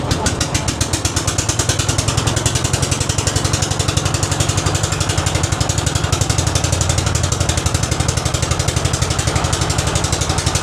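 Boat motors at a crowded river ghat, several boats jostling and racing out together, hold a steady loud mechanical chugging with a fast regular pulse throughout, close and continuous with no voices.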